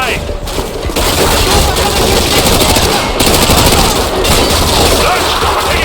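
Militia gunfire in Call of Duty Modern Warfare pounds nonstop, loud machine-gun bursts and heavy volleys crowding the whole stretch, with a voice shouting faintly underneath.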